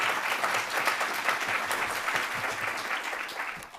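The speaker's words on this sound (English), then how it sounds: "Please join me in a round of applause for them." Steady round of applause from a graduation audience honoring faculty and university staff at a business school doctoral ceremony, dense clapping held at an even level for several seconds before easing off.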